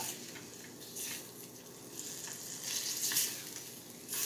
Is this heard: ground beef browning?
yes